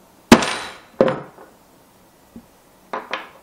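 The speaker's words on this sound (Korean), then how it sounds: "망치로 뚫어주시면 됩니다." Hammer strikes on a metal hole punch driven through leather while making a twisted leather bracelet: a sharp metallic knock, another about half a second later, a faint tap, then two quick close blows, all near and crisp with no talk.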